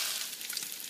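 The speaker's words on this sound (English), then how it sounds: "See that sizzle?" Steady, close-up sizzling and crackling of food frying in a hot pan, a continuous bright hiss with small pops.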